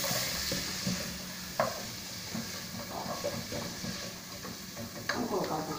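Garlic frying in a pan, a steady close sizzle with occasional stirring scrapes and clicks, moderately quiet and without talking over it.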